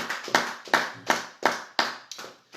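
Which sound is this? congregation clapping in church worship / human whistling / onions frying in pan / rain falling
congregation clapping in church worship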